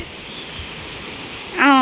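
Steady hiss of rain falling during a cyclone, soft and continuous, before a voice cuts in briefly at the very end.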